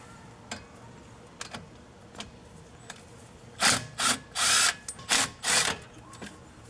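On a Hyundai Santa Fe, a power tool spins out the front brake caliper bolts in about five loud, close bursts of whirring after several softer clicks and taps.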